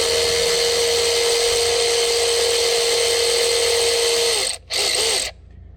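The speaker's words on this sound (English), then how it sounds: "it's a 13 millimeter. So back our bolts out." A tool backs out the 13 mm bolts on the high pressure fuel pump of a GM truck. The whirring is steady and close, with a brief pause near the end before it cuts off.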